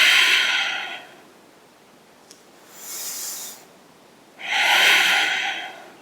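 Deep yoga breathing outdoors: a long, loud breath out, a quieter breath in, then another strong airy exhale, slow and rhythmic and close up, with no talking.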